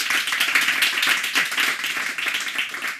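Steady applause from a crowd, dense overlapping claps filling the whole stretch at an even, fairly loud level with no pauses.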